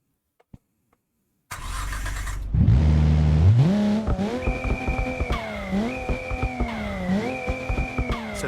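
Turbocharged Holden VL or VN in BeamNG.Drive starting up with a brief rev, then a loud engine revving in several rising and falling pulls, with a steady high turbo whistle riding above the revs.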